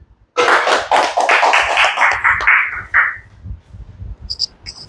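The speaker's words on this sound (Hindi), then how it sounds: "जोरदार तालियां" Applause from an audience at a welcome ceremony for a mobile repairing course in Aligarh: a burst of dense clapping that starts abruptly, holds for about three seconds, then thins out into scattered claps.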